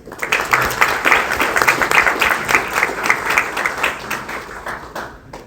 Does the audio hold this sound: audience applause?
yes